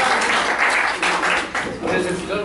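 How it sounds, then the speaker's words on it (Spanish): Brief, loud applause rises from the audience at a lecture, dense clapping that surges and dips in a couple of waves, with voices heard over it. "Nada, un aplauso"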